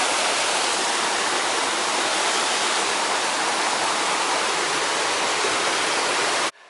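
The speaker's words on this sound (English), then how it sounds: "The tranquil sound of running water." Steady rushing of running water in a stream, a continuous broad hiss close by with no other sounds, cutting off abruptly at the end.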